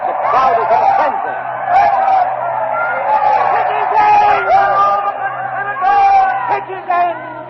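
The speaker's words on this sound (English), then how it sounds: "The crowd is in a frenzy." An agitated Roman crowd roars and clamours in a frenzy, a dense wall of excited voices with bursts of shouting swelling and falling throughout, loud and close.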